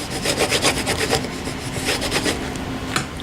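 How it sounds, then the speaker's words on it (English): A burnishing tool rubs back and forth over glued paper on a CD case, producing a rapid series of close, scratchy strokes that trail off near the end. "Then you take your burnishing tool and kind of spread that out."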